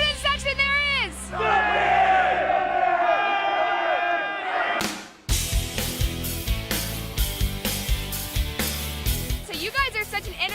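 A student section at a school game yells and cheers in loud crowd bursts, with rhythmic slams and chants after a brief pause, and voices rise near and far.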